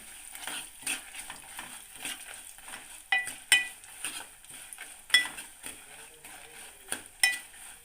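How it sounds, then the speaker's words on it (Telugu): Sesame seeds and dried red chillies crackle and sizzle as they temper in hot oil. A spoon stirs and clinks against the pan in sharp bursts, close and clear, with no talking. "మనం పోపు చేయాలి ఫస్ట్లో."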